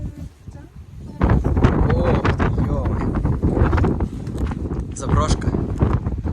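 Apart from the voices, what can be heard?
strong wind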